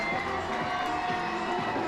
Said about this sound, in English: the crowd is going wild here in Reading, Pennsylvania, as it's a tie ball game